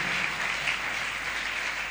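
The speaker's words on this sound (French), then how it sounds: "acclame le Seigneur Jésus." A church congregation applauds during a worship service, a dense continuous clapping that stays even and loud throughout, with no clear voice on top.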